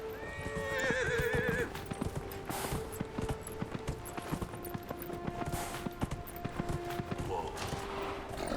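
A horse in Dragon Age: Inquisition gives a sharp neigh early on while hooves clip-clop in a steady rhythmic trot throughout, close and clear, with faint mechanical creaks and a tonal drone beneath.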